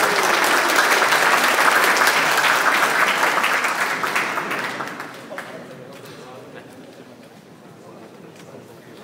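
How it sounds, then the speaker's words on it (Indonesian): An audience at a seminar applauds, with dense, sustained clapping that slowly fades to quieter scattered claps over several seconds. "Tepuk tangan untuk STIKON Bali."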